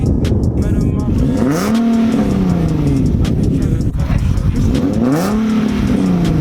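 Nissan 370Z with a VQ37 engine and muffler delete revving loudly in two rising and falling sweeps, close and raspy, with people talking over it.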